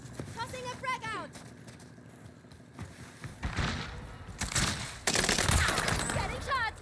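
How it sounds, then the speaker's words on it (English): Gunfire in a video game duo match near a lagoon area: dense, loud bursts of rapid shots, first scattered and then sustained near the end, with voices talking over the action. "I'm getting shot from the right"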